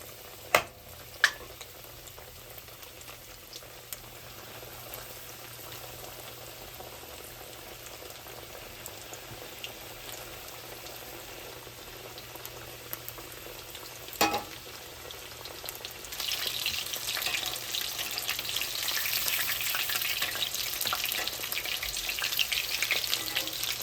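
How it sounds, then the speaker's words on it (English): Breaded venison katsu deep-frying in oil at about 379°F, a steady crackling sizzle that thickens and grows louder in the second half, with a few sharp clicks early on and no talking. "Fry until a golden brown."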